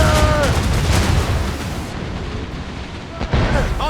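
Ship cannons firing in the video game Assassin's Creed Rogue, a heavy broadside of booming blasts and rumbling explosions that roll on loudly, with a fresh sharp report near the end.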